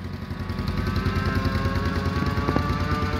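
A Mobylette moped's small engine runs loudly and continuously with a buzzing, throbbing rasp, close by and with no talk over it.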